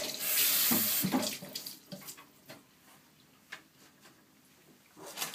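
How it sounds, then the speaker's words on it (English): Tap water gushes loudly into a sink as fresh parsley is rinsed, then the flow stops and a few soft wet clinks and splashes follow, close and without talk. "And I'm just going to give that a little wash."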